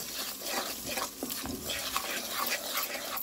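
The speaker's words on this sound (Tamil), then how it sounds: "இப்போ நான் வந்து ரவையை வந்து வறுத்து கொண்டு" Semolina is stirred as it roasts dry in a pan for rava upma, a soft continuous scraping and rustling with light irregular strokes, close and quiet, with no talk.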